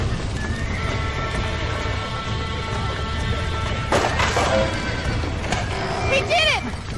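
Horses whinny and neigh loudly several times, with hoof clatter and thumps in between, over a busy background of sound effects in the video game Red Dead Redemption.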